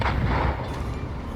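Battleship secondary guns fire during a naval video game battle, a dense rumbling barrage of low booms that blends into one continuous heavy roar.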